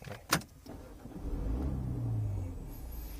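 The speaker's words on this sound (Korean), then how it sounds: "시동을 한번 걸어 보겠습니다" A Mini Clubman JCW hatchback engine starts with a click and a short whir, then settles into a low, steady rumbling idle close by.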